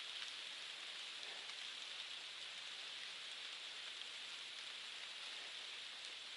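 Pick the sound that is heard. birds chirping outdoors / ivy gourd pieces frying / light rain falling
light rain falling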